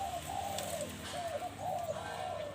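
A decoy dove kept for bird trapping coos in a repeated, rolling phrase, fairly close and steady over constant background hiss.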